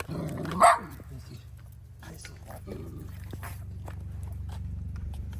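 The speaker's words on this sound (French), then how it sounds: "Je sais pas si c'est pas des chiens errants, donc C'est des chiens errants." Stray dogs bark on a hiking trail near Piton Cabri above the Cirque de Cilaos, one loud close bark standing out early, then quieter scattered yelps and rustling while voices murmur.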